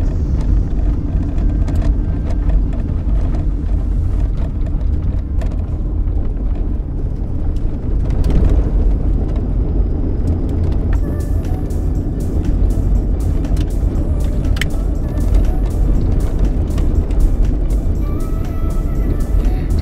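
A car driving a hot, open road in northern Kenya from North Horr toward Loiyangalani in Marsabit County, with loud, steady road and engine rumble heard from inside the vehicle and scattered rattles and knocks throughout.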